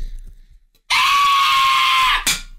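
A woman lets out one loud, sustained high-pitched scream on request, lasting about a second and a half and ending in a short burst, after a quiet pause in a radio studio.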